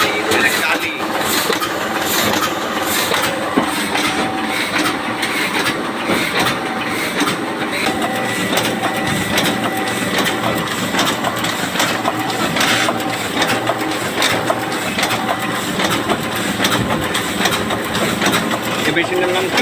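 A printing press machine at work in a print shop, a loud, continuous mechanical clatter with steady rhythmic clicking and rumble throughout, people talking faintly over the running machinery.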